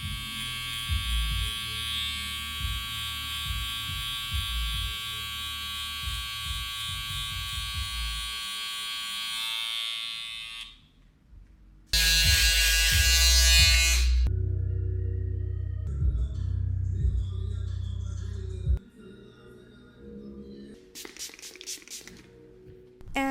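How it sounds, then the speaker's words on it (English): Electric hair clippers fitted with a number 2 guard, shaving down long hair in a barbershop, buzzing steadily close up, then cutting off and restarting with brief pauses between passes. "take my number 2 and just shave down that"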